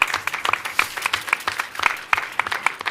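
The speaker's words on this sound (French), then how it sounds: "Bravo, on peut les applaudir." Audience applause for contestants in a mixology battle: a steady burst of many hands clapping at close range, dense and even for the whole stretch, with no talking over it.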